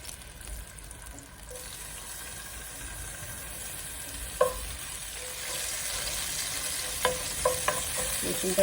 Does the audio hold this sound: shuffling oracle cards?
no